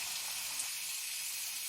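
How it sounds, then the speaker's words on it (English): Chicken thighs sizzle and crackle in a hot pan with a bright, even frying hiss, close and steady over a brief moment. "let me take a bit of these chicken thighs. There you go. Hear that sizzle?"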